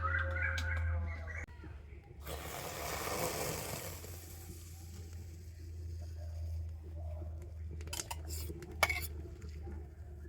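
A metal wok on a lit stove clinks and scrapes as mango pulp paste is added and stirred in, with brief clatters and a scraping burst near the start, fairly faint, with birds chirping in the background.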